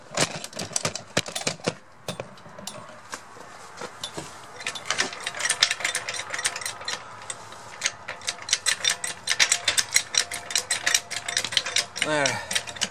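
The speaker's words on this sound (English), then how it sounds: "You can see the vehicle is going up, and as it does so, you'll see the jack rolling forward" A car jack ratchets steadily as it lifts a car, a rapid run of metallic clicks and clunks from the mechanism close by, with a brief creak near the end.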